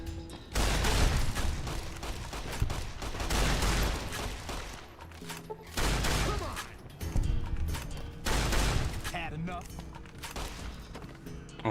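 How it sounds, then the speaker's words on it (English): Sustained minigun fire roars in Fallout New Vegas, loud rattling bursts with short breaks between long stretches, overlaid with crashes and booms from the game fight. "Oh my god, one of them actually does have a minigun."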